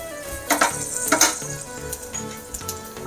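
Curry leaves and green chillies crackling in hot oil in a pan for buttermilk kadhi, a brief close sizzle with a few sharper spits and light utensil clinks, no voices.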